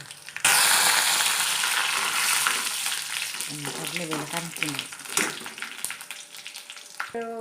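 Onion fries in a hot pan with curry leaves, a loud close sizzle that starts suddenly and carries on with occasional stirring scrapes; a voice briefly murmurs partway through.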